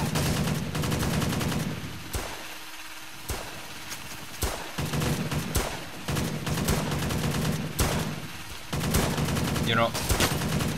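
Heavy, continuous gunfire in the Roblox game Payday 2, rapid automatic bursts and single shots crowding together loudly, with brief lulls between volleys.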